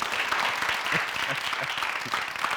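A television studio audience claps during a variety show, a brisk, busy burst of applause with faint voices mixed in.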